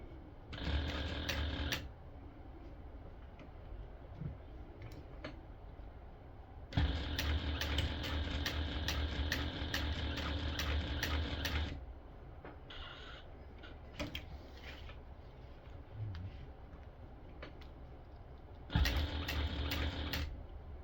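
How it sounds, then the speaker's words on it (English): A sewing machine stitching the 1/8 inch seam of a stadium bag close to the hardware, running in three bursts of rapid whirring and clatter separated by quieter pauses with small handling clicks. "now we're going to sew this in place using a 1/8 inch seam allowance"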